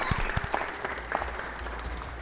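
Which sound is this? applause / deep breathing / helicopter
applause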